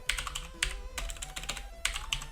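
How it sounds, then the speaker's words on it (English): Quick bursts of keystrokes on a computer keyboard as a password is typed while setting up a Raspberry Pi 400, close and crisp, coming in irregular clusters over a faint electronic hum. "Keep typing in the wrong password."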